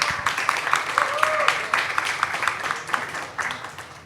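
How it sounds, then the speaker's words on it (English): Audience applause for panelist Payal Singhal at a fashion-industry panel, moderate clapping with distinct individual claps that rise and fall unevenly and taper toward the end. "Let's give a huge round of applause to Payal Singhal"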